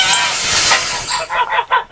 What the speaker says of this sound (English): The geese are just dying to get out and ravage my garden